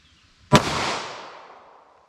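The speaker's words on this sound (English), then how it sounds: "So I'm going to fire this thing single action just because the trigger is a little bit questionable on it." A snub-nosed .22 LR revolver fired once in single action with CCI Uppercut ammunition: one sharp, loud crack followed by a long decaying outdoor echo, no voices.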